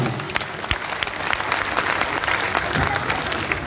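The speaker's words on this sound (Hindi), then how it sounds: "एक बार जरा दोनों हाथ ऊपर उठाकर जोरदार तालियां।" Devotees at a Hindu religious gathering honouring Khatu Shyam on Ekadashi clap loudly with raised hands. The applause is dense and sustained for nearly four seconds, with crowd noise mixed in.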